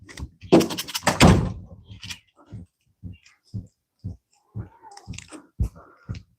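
A cat moving around a fly-tying bench, with a couple of loud thunks near the start followed by scattered soft knocks and small bumps as it shifts about.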